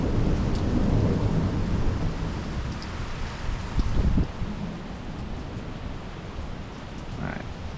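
Arizona monsoon rain pours steadily outdoors as deep thunder rolls, swelling into a loud rumble midway before fading back under the continuous hiss of rain.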